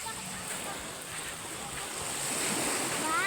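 Sea waves wash steadily onto a beach with white sand in the evening. The surf is a continuous broadband rush that grows slightly louder over the clip, with some wind noise.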